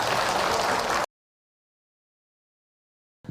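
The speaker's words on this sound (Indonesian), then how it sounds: "Tepuk tangan buat Bunda yang datang" A crowd at an Islamic religious talk claps for a woman in the audience, a dense burst of applause lasting about a second before cutting abruptly to silence.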